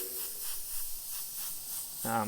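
A faint, steady airy hiss of an airbrush spraying paint over a skull template, with a short voiced sound near the end.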